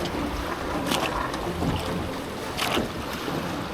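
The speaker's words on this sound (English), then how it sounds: "let's jump on board here and set sail down this river" A boat on a river in Alaska heading out for silver salmon fishing, with a steady rush of water and wind buffeting the microphone, continuous and close.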